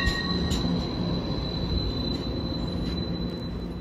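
A Seattle South Lake Union streetcar running on its rails, with a loud, steady rumble and a sustained high wheel squeal heard close up, with no talking.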